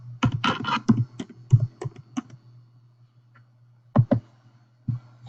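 Computer keyboard keys clicked while a password is typed, a quick run of close, crisp keystrokes, then a long pause and a few isolated taps near the end.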